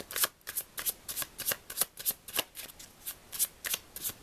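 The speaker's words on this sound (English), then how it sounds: "I'm trying to just shuffle in general, just to blend the cards a bit." Tarot cards being shuffled by hand, a quick run of about fifteen crisp riffling bursts in steady rhythm, close and fairly quiet with no talking.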